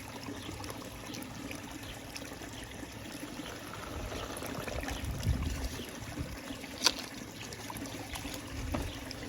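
Water runs steadily through a gold prospecting sluice with a soft trickling rush, faint and continuous, with a single brief knock partway through as a rock tumbles down the box.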